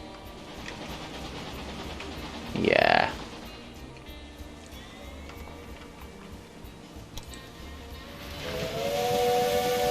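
A train steam whistle blows briefly in the railway game Railway Empire 2 over a hissing, ticking game background, with a tonal whistle swelling near the end and a voice speaking briefly.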